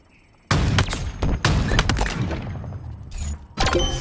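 Sniper rifle gunfire from the SR7 in a first-person shooter, several loud sharp shots and bursts in quick succession, close and punchy, with trailing echoes between them.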